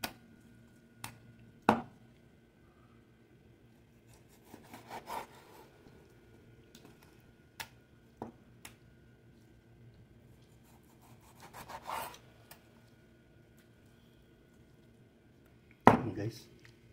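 Knife slicing cooked beef for pochero on a board, a handful of separate scraping and chopping strokes spread out with quiet gaps between them, close up, with light talk.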